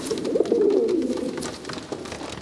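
Domestic pigeons kept by fanciers coo in a low, rolling, continuous warble, close and moderately loud, with faint background noise and no talking.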